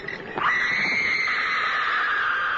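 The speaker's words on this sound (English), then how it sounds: "Beware the tortured scream that comes from nowhere." A tortured scream in a horror radio drama: one sudden high shriek bursts in and holds as a long, steady, piercing wail over a dark, hollow background.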